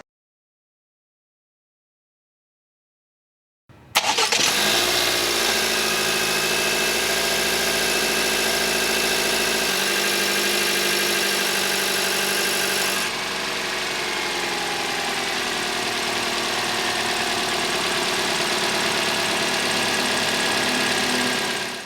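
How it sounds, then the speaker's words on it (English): After a silent start, a 2022 Toyota Corolla Cross engine starts and runs loud and steady in direct injection mode, a constant rumbling idle with a slight shift in tone partway through. "Every time it runs in direct injection, it is loud."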